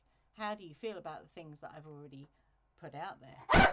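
A dog gives one loud, sharp bark right after a person finishes speaking indoors, cutting in abruptly at the end.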